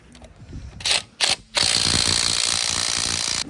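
Ratchet wrench working tight wheel lug nuts on a Corsa VXR at the roadside in the rain, with a few short clicking bursts followed by a sustained, loud continuous mechanical whirr close by.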